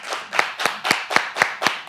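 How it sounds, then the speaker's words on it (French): Eight evenly spaced hand claps about a quarter second apart, crisp and fairly close, with no crowd wash or voices, more like one person clapping along than a full audience at a live show. "Mais applaudissez pour vous-même"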